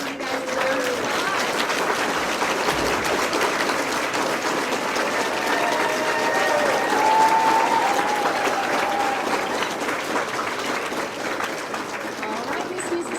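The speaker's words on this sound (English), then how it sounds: "You guys deserve a applause." An audience at an elementary school fifth-grade graduation breaks into sustained applause, a broad, steady roar of many hands clapping at moderate distance, with faint speech and stray voices mixed underneath.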